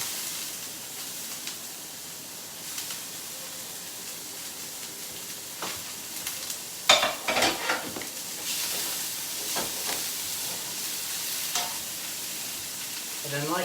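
Peppers and onions fry in a pan with a steady close hiss and sizzle, a few sharper crackles and clatters as they are tossed in midway, the frying continuing without speech.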